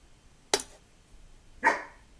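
Two sharp single barks from a dog indoors, about a second apart, moderately near and standing alone against quiet room tone.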